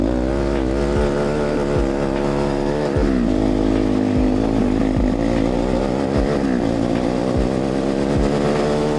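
A turbocharged Barbie mini jeep engine drones loudly and continuously close by, with rises and dips in revs as the small vehicle is driven and slid around a corner.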